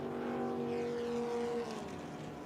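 Historic Thundersports race cars run down the Hangar Straight toward Stowe Corner at Silverstone behind the safety car. Their engines give a moderately distant, humming roar whose pitch shifts and falls away as the cars pass.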